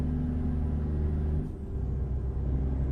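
A semi-truck rumbles steadily at close range on a highway, a deep low engine drone that dips briefly midway before swelling again.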